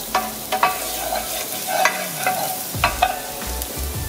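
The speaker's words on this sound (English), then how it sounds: "I'm gonna saute that just a little bit in that olive oil and get that cooking" Garlic sautés over medium heat in olive oil, a soft continuous sizzle with intermittent stirring scrapes and clicks close by, no voices.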